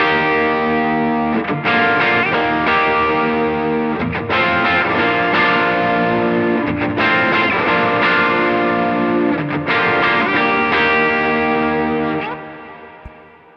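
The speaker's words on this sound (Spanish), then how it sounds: "Usemos ahora una reverb menos pronunciada con un poco de overdrive, el Morning Glory del Double Barrel." Electric guitar played through an AMT Pangaea CP100 with a Double Barrel Morning Glory overdrive and light reverb, sustained driven chords strummed in steady changes, loud and upfront, ringing out at the end, recorded direct to an interface.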